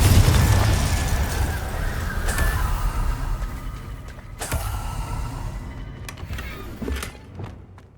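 Confringo blasting spell from Hogwarts Legacy going off, a loud burst followed by rumbling blasts and sharp cracks that fade over several seconds.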